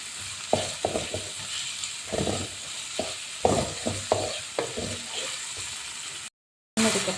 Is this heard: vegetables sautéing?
yes